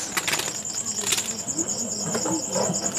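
Diamond doves being released one after another, quick bursts of flapping wings close by over a constant high insect-like chirping background.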